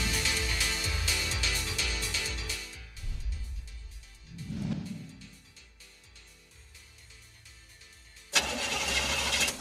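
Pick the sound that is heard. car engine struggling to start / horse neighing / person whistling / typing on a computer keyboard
car engine struggling to start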